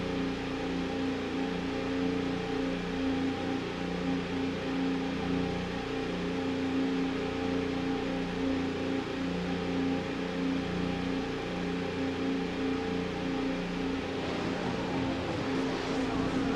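Formula One cars sit revving on the starting grid at Sepang, producing a continuous, loud engine drone with steady tonal layers that stays level throughout.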